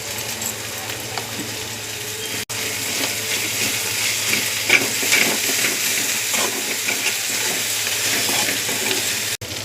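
Onions frying in a pan, a steady loud sizzle with crackling throughout, no voices.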